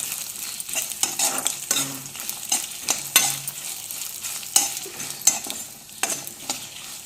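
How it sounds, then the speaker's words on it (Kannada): Green chilies sizzle and crackle in hot oil, with repeated stirring scrapes at an irregular rhythm, close by and without talk, while tempering puffed rice. "ಅದೆಲ್ಲ ಫ್ರೈ ಆಗ್ತದೆ ಮೆಣಸಿನ್ಕಾಯಿ ಹಾಕ್ತದೆ ಇದನ್ನು ಫ್ರೈ ಮಾಡ್ಕೊತೀವಿ"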